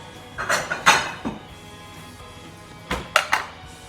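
Bowls being handled in a kitchen while baking candy-cane cookies, a few ceramic knocks and clinks in two short clusters separated by a quiet pause, close by.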